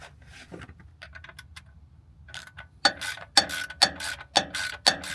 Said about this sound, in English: I can go ahead and grab my socket wrench. Tighten that down all the way.